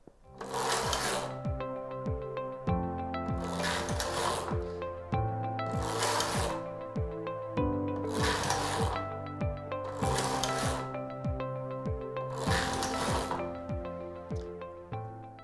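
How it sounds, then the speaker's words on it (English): Knittax domestic knitting machine carriage pushed back and forth across the needle bed, six regular loud rasping, clattering sweeps with a mechanical hum between them. "I hook my yarn under the sinker, lay it into the needle hooks, check that all my latches are open and take the carriage across"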